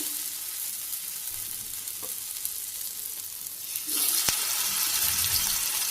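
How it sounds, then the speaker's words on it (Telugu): Veg fish fry set into a heated pan over low flame: after a quiet stretch with faint kitchen noise, a loud, steady hissing sizzle bursts in and carries on to the end. "ఇప్పుడు మనం ఈ వెజిటేబుల్ ఫిష్ ఫ్రైని ప్యాన్లో పెట్టేసుకుందాం."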